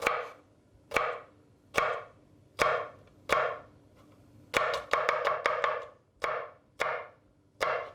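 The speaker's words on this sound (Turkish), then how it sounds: "Sarımsağı da bıçakla kesiyorum." A knife chops a garlic clove on a cutting board for a sucuk breakfast dish, about a dozen sharp close knocks. They come first in slow even strokes, then in a quick burst of rapid taps, then slower strokes again.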